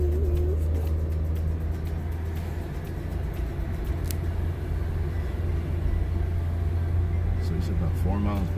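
A manual-transmission car driven along a road, its engine giving a steady loud low rumble with road noise throughout and a few brief higher whines near the end.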